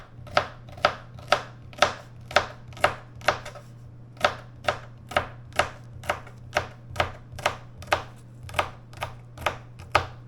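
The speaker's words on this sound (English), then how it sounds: "Cut up some celery." Celery chopped with a knife on a board: about twenty crisp, evenly spaced strikes in a steady rhythm, close and clear over a low constant hum, with no talking.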